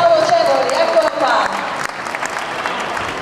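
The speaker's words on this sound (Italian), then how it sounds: "facciamo un applauso per fargli sentire tutto il nostro calore, Paolo Cevoli" An audience applauds as comedian Paolo Cevoli is welcomed onstage at Piazza Umbra, a steady mass of clapping that thins slightly toward the end, with a voice over it at the start.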